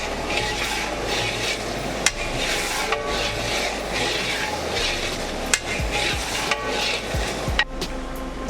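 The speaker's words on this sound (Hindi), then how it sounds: "इसे हिला देंगे ज़रा" A pot of tomatoes and green chillies sizzles steadily while being stirred, with occasional sharp knocks of the spoon against the pot over the constant frying hiss.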